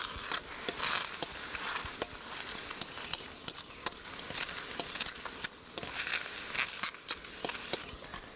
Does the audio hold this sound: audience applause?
no